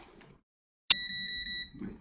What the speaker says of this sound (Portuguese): mais tranquilo para ouvir o bip aí